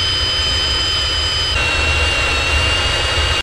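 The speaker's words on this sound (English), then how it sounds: "So we're gonna drill this out now before it's mounted to the engine" A drill bores out a broken stud in the exhaust manifold of an old Willys Jeep F-Head or L-Head engine, with a steady, close, continuous high whine over broad grinding noise. No one talks.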